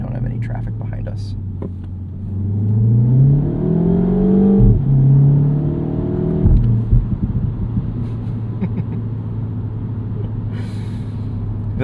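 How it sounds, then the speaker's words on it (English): A 2025 Mini Cooper JCW turbo hatchback accelerates on an open road, its computer-generated engine note climbing in pitch through a couple of gear changes before settling into a steady cabin drone, with faint whispering at times. "Let's do just a little bit of an acceleration while we don't have any traffic behind us."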